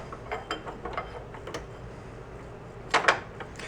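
Small washers and a collar slide off the drive disc shaft of an Ariens snowblower, giving a scatter of faint metallic clicks and scrapes with a sharper clink near the end, close and quiet.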